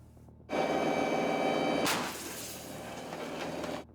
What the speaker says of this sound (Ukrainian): заряджають машину і лунає постріл